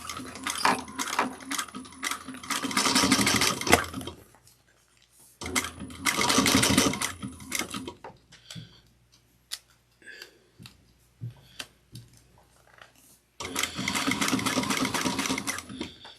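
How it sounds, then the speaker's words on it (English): A sewing machine back stitches a clear vinyl bag in three bursts of rapid, steady mechanical whirring, close and loud, separated by quiet pauses filled with small handling clicks. "I'm going to go back around the areas that did not get caught. and back stitch."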